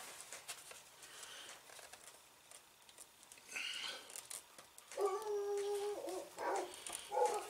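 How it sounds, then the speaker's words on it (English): Dogs whine and howl faintly in the distance, a thin wavering cry rising near the end amid quiet background noise. "Hear my dogs?"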